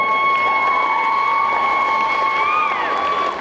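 Convention crowd at a French cosplay contest cheering for a costumed hunter in Glavnus Acid armour, a loud, sustained wash of clapping with high shouted whoops held steady over several seconds.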